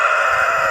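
A rooster on a small farm gives a brief, loud, sustained crowing note close to the microphone, heard alone.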